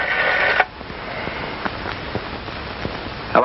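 Telephone number dialed on an old home phone, a sequence of faint clicks spread evenly across a few seconds after a louder start, with no talking.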